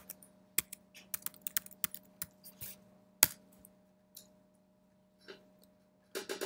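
Quick irregular bursts of key clicks from a computer keyboard during a programming lecture, sharp taps in clusters with brief pauses, fairly close, over a faint steady hum.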